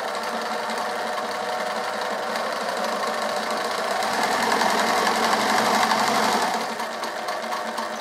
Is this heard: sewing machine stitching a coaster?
yes